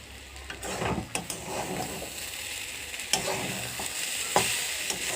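Fish sizzling and spitting in hot oil, a steady crackle with occasional louder pops and spatters, close by with no voices.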